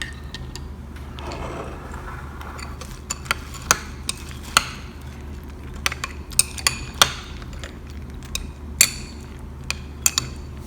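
A spoon mixes spices into curd raita with boondi, giving a string of light, irregular clinks and taps against the bowl over a quiet background hum.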